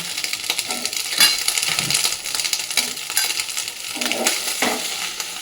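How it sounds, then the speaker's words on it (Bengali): Onion greens and green chillies fry in a little oil on a flat griddle pan, a continuous sizzle broken by repeated scraping and stirring strokes of a utensil. "পেঁয়াজ কালি আর কাঁচা লঙ্কাটা একটুখানি তেলের মধ্যে হালকা করে ভেজে নেব"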